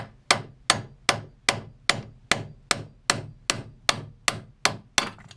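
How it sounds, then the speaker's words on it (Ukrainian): A hammer repeatedly strikes a homemade ball joint on a VW T4 to knock it loose: about thirteen sharp, evenly spaced metallic blows, close and fairly loud, with no talking. "Зараз ось так от невеличким ударом молотком вона зараз покажу."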